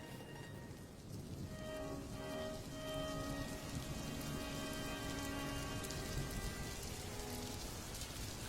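Steady rain pours down in a cartoon scene, a dense, even hiss of drops hitting surfaces that holds at a moderate level throughout, with faint tonal music under it and no voices.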